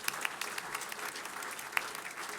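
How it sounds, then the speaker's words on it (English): An awards-ceremony audience for harness racing claps steadily, a dense, even patter with a few sharper claps standing out. "Round of applause, ladies and gentlemen."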